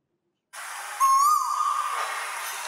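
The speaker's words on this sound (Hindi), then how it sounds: "कोयल की आवाज है" A bird call of the Asian koel, a single clear rising whistle over a steady airy hiss, fairly loud and alone with no voices.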